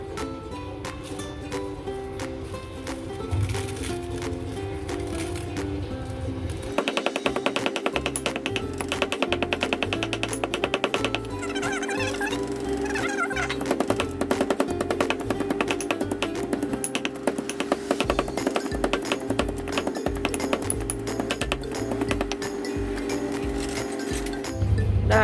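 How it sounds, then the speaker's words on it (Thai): Chili and garlic pounded in a mortar in a Thai kitchen while making stir-fried holy basil with fresh shrimp: a steady run of dull, rhythmic thuds, loud and close, under background music. "ก่อนอื่นเราจะมาโคลก พริกกระเทียมของเราก่อนนะคะ"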